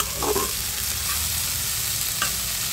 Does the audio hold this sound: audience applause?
no